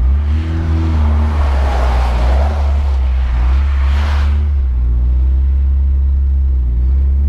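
A Volkswagen Gol Quadrado's engine, after the car stalled on a highway, rumbles and revs hard in a loud low drone, rising in a surge then settling back to a steady heavy idle.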